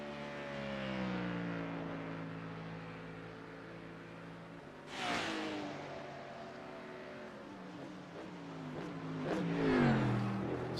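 Car engine in a video game revving through several rising sweeps, a steady mid-loud drone that climbs in pitch around the middle and again near the end, with no talking.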